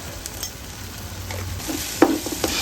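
Soya pulao stirred in a pot, a low soft sizzle under scraping movement that ends in a couple of sharper spoon knocks against the pot.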